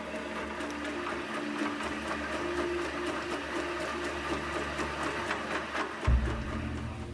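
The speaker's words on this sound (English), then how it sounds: "This machine, weighing 2 tons, races closely past these fingertips." A two-ton leather processing machine runs in a factory, giving a continuous dense mechanical clatter and whir with a rhythmic pulse, close and steady, and a heavier thump near the end.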